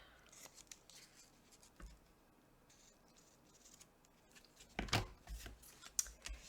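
Scissors snip ribbon for a handmade card, a couple of crisp close cuts near the end after quiet paper handling, with no talking.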